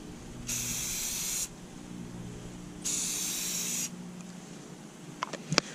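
Two steady hissing bursts of aerosol spray paint, each about a second long, applied outdoors as a coat on a Mustang light part, followed by a few faint clicks.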